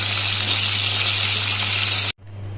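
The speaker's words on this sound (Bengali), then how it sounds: "ভোলা মাছগুলো দিয়ে দিয়েছি তেলে। এভাবে আমি মাছগুলোকে ভেজে নেবো সব কটা।" Bhola fish frying in hot oil in a home kitchen, a loud steady crackling sizzle that runs continuously for about two seconds, then cuts off abruptly and drops to a quieter hiss.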